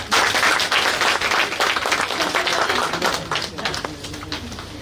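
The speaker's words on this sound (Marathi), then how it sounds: "जोरदार टाळ्याने आपण स्वागत करूया" A crowd at a foundation's award ceremony gives loud, sustained clapping to welcome an award recipient. The dense applause starts strong and tapers slightly toward the end.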